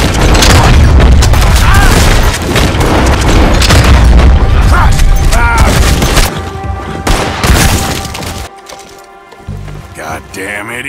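Red Dead Redemption 2 gunfire on a bridge cracks out in rapid, loud, dense shots for several seconds, then thins into a few scattered reports as the clamour dies down.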